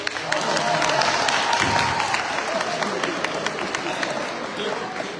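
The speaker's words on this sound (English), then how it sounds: "Please give a round of applause for our amazing participants." Audience applause and clapping fill a live spring show after a mini game, a dense steady roar of many hands held near and loud throughout, with crowd noise mixed in.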